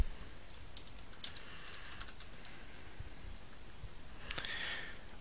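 Someone types a message on a computer keyboard, producing faint, quick clusters of key clicks with short pauses between bursts against a quiet background.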